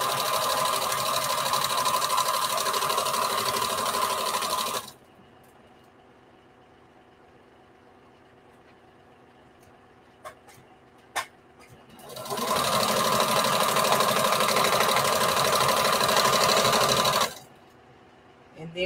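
A sewing machine stitches the seams of a patchwork bandana T-shirt dress in two loud, steady bursts of about five seconds each, separated by a quiet pause with a few small clicks while the fabric is adjusted.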